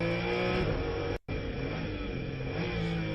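A race car engine in a racing video game roars at high revs while accelerating off a banked track, a loud, continuous, buzzy drone broken by a sharp cutout of near silence before the engine picks straight back up.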